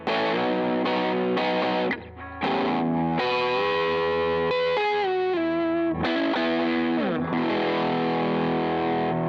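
An electric guitar plays chords and single-note lines through an MXR Duke of Tone overdrive with its boost engaged, stacked with a Wampler pedal, giving a thick, saturated, sustained distorted tone. The playing is loud and continuous with brief gaps, and no one talks.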